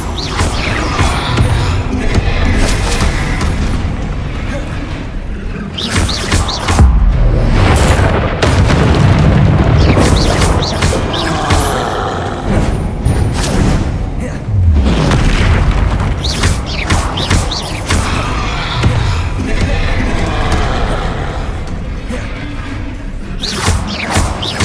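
Spell blasts from fire and explosion spells cast in the Hogwarts Legacy video game, a dense run of loud booming bursts and crackling impacts over a constant roar of battle, with brief voices in the mix.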